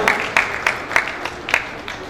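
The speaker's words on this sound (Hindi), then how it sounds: "सर प्लीज मंच पर आइएगा, जोरदार तालियां हो जाएं।" Onstage at an awards show, the audience gives spaced, rhythmic claps as a guest is called up. Sharp, moderately loud hits land roughly every third of a second over a faint tonal hum.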